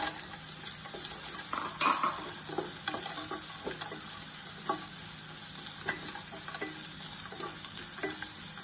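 A small handful of peanuts fries in a pan while being stirred, with a soft continuous sizzle broken by frequent light scrapes and clinks of a spoon against the metal, heard up close.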